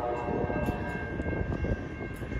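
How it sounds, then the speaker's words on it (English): Amtrak 91 Silver Star passenger train, with a heritage-livery unit trailing, passing at Selma as a steady, fairly loud rumble of rolling cars and wheels that holds continuously throughout. "Here comes Amtrak 91."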